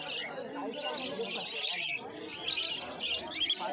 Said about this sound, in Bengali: আজকের হাটে প্রচুর ককাটেল পাখির কালেকশন রয়েছে।